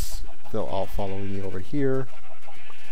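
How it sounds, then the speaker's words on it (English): Several Minecraft sheep bleat in quick succession, three clear nasal bleats close by, while a person talks over them. "These sheep just want to escape so bad."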